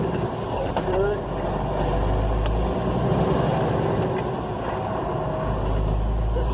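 An 18-wheeler's engine rumbles low and heavy under throttle, swelling and easing in the cab while a voice talks over it.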